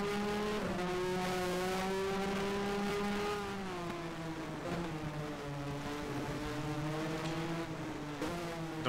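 A loud racing car engine in F1 Challenge, 1985 season, drones steadily, its pitch dipping and rising slightly with gear changes, continuous and close throughout.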